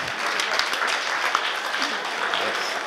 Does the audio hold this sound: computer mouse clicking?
no